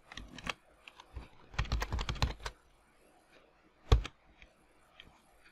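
Typing on a computer keyboard while entering a channel label in logic analyzer software, a short flurry of quick close key clicks followed by a single firm keystroke after a pause.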